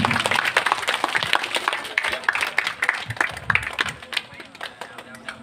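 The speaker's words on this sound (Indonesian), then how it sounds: "Tepuk tangannya Bapak Ibu." Audience at a religious sholawat gathering clapping, a burst of scattered and overlapping handclaps from a modest crowd, fairly close and lively, with voices mixed in.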